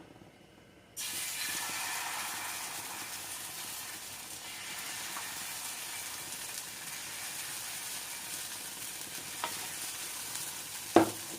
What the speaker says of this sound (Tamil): இதை நம்ம ரொம்ப ஸ்ப்ரெட் பண்ணக்கூடாது இந்த அளவுக்கு தான் விட்டுறணும் சுத்திலும் கொஞ்சமாக எண்ணெய் சேர்த்துக்கலாம்